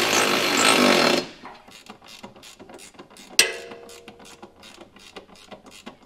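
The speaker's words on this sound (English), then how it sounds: "19 wrench is gonna be the best way to get that snugged up" A 19 mm socket wrench snugs up the bolts of a hidden trailer hitch receiver on a 2022 Toyota. A loud broadband burst comes first, then a run of close, light metallic ratchet clicks with one sharp clank.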